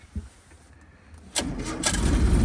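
A Land Rover fitted with a Rochester B carburetor cranks at half choke without pumping and catches quickly. After a faint click it settles into a loud, close, steady idle.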